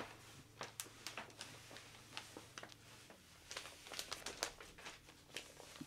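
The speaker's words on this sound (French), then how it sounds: "On va ouvrir le cadeau maintenant." Gift wrapping paper crinkles and tears as a present is opened. The rustling is soft and faint, with scattered sharp rips and crackles and no talking.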